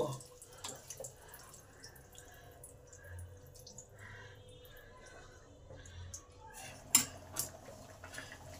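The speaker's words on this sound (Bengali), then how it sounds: "এবার সব কিছু ভালো করে মিলিয়ে নেব।" A utensil stirs muri ghonto ingredients in a pan, giving soft, quiet scrapes and light clinks, with a sharper metallic knock near the end.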